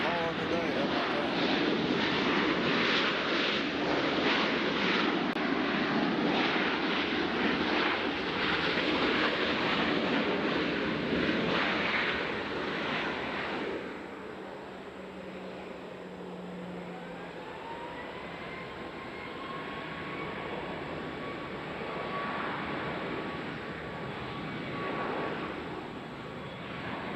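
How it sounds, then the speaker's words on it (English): A Southwest airliner lands on runway 20 right at Nashville airport, its loud broad jet roar sustained for about fourteen seconds, then fading into a quieter whining engine hum as it taxis, with a faint tone rising beneath. "Southwest lands on 20 right. We'll watch this taxi and call it a day."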